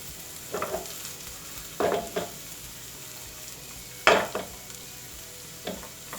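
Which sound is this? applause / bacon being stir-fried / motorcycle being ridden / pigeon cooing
bacon being stir-fried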